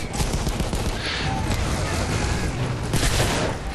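Battlefield 1 gunfire in a trench battle during a flag capture, with sustained dense shooting and bursts throughout, loud and close, and a voice speaking over the firing.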